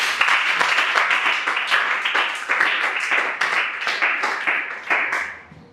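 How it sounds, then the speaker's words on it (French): A church congregation claps loudly and steadily, with dense, sustained applause and irregular sharp claps running throughout and fading slightly at the end. "Acclamons très fort pour le Seigneur."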